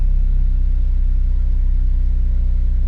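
A Toyota GR Corolla engine, fitted with an aftermarket lower engine mount, runs at an elevated idle just after a cold start, giving a close, loud, steady low rumble with an even pulsing throb throughout.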